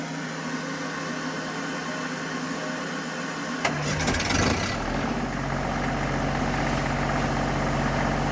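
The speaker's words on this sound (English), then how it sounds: "But the generator itself should be much quieter than our old one" A newly installed generator on a refitted catamaran cranks and catches with a brief rough burst. It then settles into a steady, loud, continuous hum.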